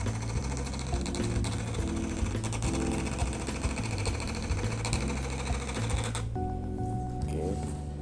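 An IWARE thermal printer prints a Shopee receipt, a steady buzzing mechanical whir with rapid rhythmic stepping that runs continuously, close and fairly loud.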